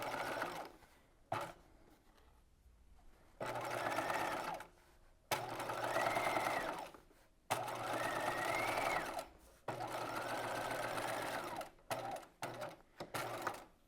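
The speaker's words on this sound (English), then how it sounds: "I'm just going to continue this process, top stitching on either side of the seams" A sewing machine top stitches along the seams of a waspie corset belt, running in several loud, even bursts of whirring separated by short pauses.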